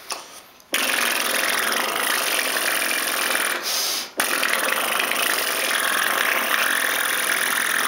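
A person imitates a motorbike engine with their voice, a loud, rough, continuous buzzing roar that drops out briefly twice for breaths before carrying on.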